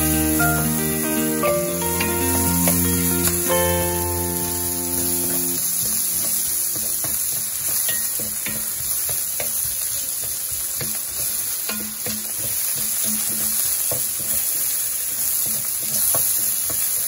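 Garlic and onion frying in a pan, a steady close sizzle with stirring scrapes and clinks, heard alone under some faint tonal background at the start.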